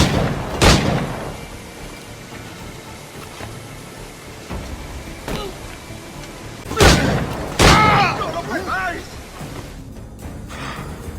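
Gunfire in the video game Assassin's Creed IV Black Flag: scattered loud flintlock shots and booms at irregular intervals, some near and sharp, others duller, mixed with voices, clashes and ringing after the blasts.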